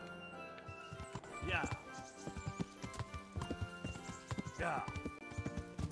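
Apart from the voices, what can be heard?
horse hooves clip-clopping while riding in video game Kingdom Come: Deliverance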